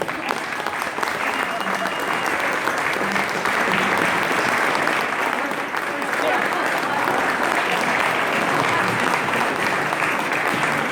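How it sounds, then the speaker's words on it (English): Sustained, loud applause fills a reunion hall as a crowd claps in thanks for veterans at a 50th class reunion of 1969 graduates, steady and dense throughout with no pauses. "accept our applause as a thank you for your service"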